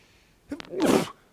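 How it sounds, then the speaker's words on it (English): A single sharp sneeze, short and close, with a brief intake of breath just before it. "There's a sneeze right there."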